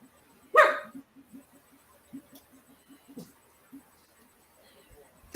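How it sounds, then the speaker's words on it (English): A female dog barks once loudly and close, then gives a string of quieter short yips and barks at an irregular pace, ending with another sharp bark. "This dog's getting on my nerves. She's barking at me."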